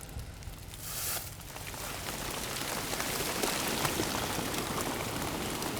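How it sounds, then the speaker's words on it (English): Rain falls steadily outdoors in the Florida Keys after Hurricane Irma, a dense, close hiss of drops that swells slightly and holds without talk. "It's gonna rain on you now."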